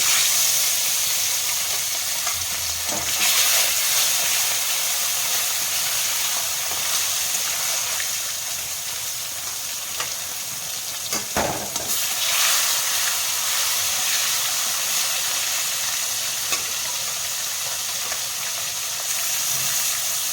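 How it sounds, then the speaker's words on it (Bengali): Baan fish (freshwater eel) sizzling in hot oil, a steady loud hiss throughout with occasional pops and crackles. "এবার আমি এক এক করে মাছগুলো ভালো করে ভেজে নেব"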